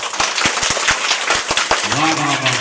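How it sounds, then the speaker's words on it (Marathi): Children clap in loud, uneven claps for a classmate during a comedy session at a school, the clapping crisp and close, ending under a voice. "जोरात टाळ्या वाजव तिच्या नावाने"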